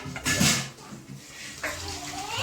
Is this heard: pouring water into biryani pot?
yes